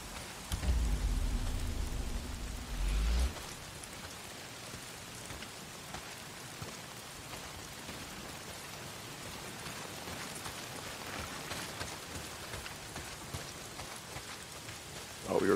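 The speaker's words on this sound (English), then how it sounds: "Well, not if it's pissing down rain." Heavy rain pours steadily in the Days Gone video game, a dense continuous hiss with a low rumble early on and occasional distant thunder, heard alone with no talk.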